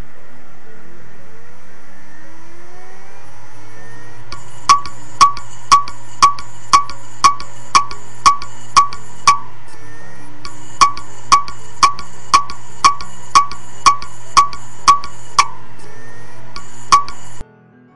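A damaged head inside a failing hard disk drive produces a loud run of rapid, evenly spaced mechanical clicks in two bursts, over a steady low hum.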